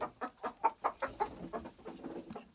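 Minorca hens clucking in a steady run of about a dozen short, nasal calls, close by and moderately loud, with no other sounds.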